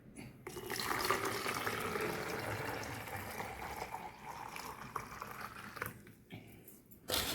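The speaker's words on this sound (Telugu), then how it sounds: "ఇది one litre BPL free container ఇందులో పోసేస్తున్నాను చూడండి" Mixed vegetable juice pours into a one-litre BPA-free container in a steady, soft liquid stream that trails off near the end.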